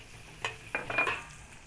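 Chili and fermented beancurd paste hit a hot wok over low heat in a Chinese lettuce stir-fry, giving a few soft sizzling bursts and stirring scrapes, faint and close, with no talking.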